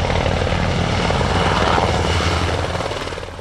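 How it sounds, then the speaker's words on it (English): A helicopter makes a ceremonial salute flyover above North Field on Tinian, its loud, close rotor chop and engine roar filling the air before starting to fade in the final second. "received a salute by helicopter over North Field."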